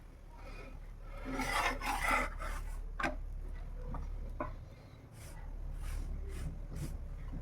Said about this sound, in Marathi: असं सुकं पीठ लावून हलक्या हाताने लाटून घ्यायचे